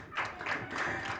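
A women entrepreneurs' audience at a live event claps for themselves, soft, scattered applause heard faintly and somewhat distant for about a second.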